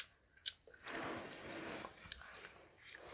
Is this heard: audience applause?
no